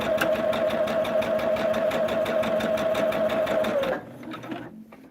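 A sewing machine piecing a quilt star block for a table runner: a fast, steady mechanical whir of rapid stitching, loud and close for about four seconds, then it stops, leaving faint handling sounds.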